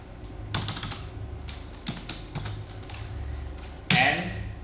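Fingers type Java code on a computer keyboard in irregular bursts of keystrokes with short pauses, ending in a louder clack, close and moderately loud, with no talking.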